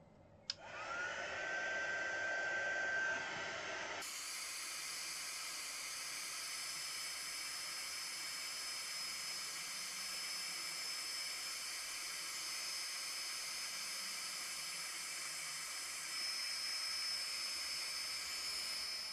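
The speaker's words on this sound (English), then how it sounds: "you're going to have to put up with me heat gun for a bit" A heat gun blows hot air in a bookbinding workspace, starting with a click and rising whoosh, then switching to a louder, higher setting that hisses steadily and close for the rest of the time.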